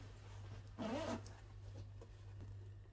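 A single quick pull of a cosmetic bag zipper, close and crisp, lasting under half a second against a quiet room hum.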